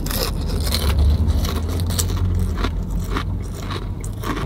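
Someone bites into a large cluster of fried potato chips at a country western bar, the close, loud crunch and crackle continuing as a steady run of sharp snaps under a low room hum.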